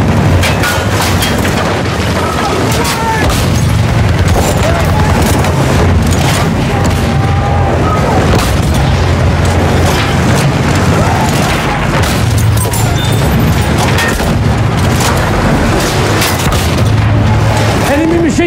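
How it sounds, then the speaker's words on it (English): Enemy machine gun fire in a Battlefield war game, loud and close, a constant barrage of rapid shots and booms under shouted voices, with no letup. "Enemy machine gun!"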